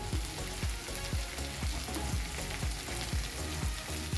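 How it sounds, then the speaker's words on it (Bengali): Tomato masala frying in a pan, a steady close sizzle with regular scraping stirs about every half second, no talking. "টমেটো কষে গেছে, এবার এতে দেবো একে একে মশলা।"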